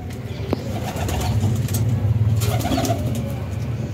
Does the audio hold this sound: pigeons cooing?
yes